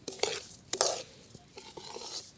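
Semolina roasts in oil over a low flame while a spoon scrapes it around the pan in a few soft, close strokes, quiet overall, with no talking.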